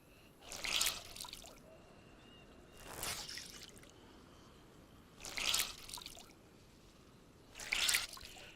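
Water from wrung-out drenched clothing on a coast in the Livonia survival game, four separate bursts of splashy trickling spaced a couple of seconds apart, fairly close against a quiet background.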